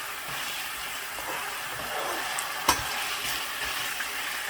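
Capsicum and potatoes frying in a pan, a steady close sizzle with occasional crackles and one sharp knock or stir clatter midway.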